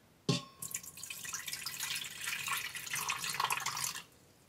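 Water is poured into a metal pan inside an Instant Pot, filling it about halfway, with a close, steady splashing pour that starts abruptly and runs for roughly three and a half seconds before cutting off, with no talking.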